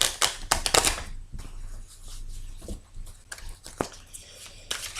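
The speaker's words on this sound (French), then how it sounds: "je vais battre les cartes" Tarot cards shuffled by hand in a quiet room, a burst of rapid papery riffling clicks at the start, then softer intermittent flicks and taps with a few sharper snaps later, no voices.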